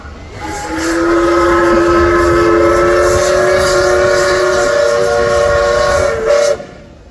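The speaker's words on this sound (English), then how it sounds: "got a massive whistle on it. I think it's a big South African pride timer." A loud, sustained steam engine whistle, from a large South African locomotive at a steam rally, blowing one long chord-like note for several seconds, close by, ending abruptly with a brief hiss.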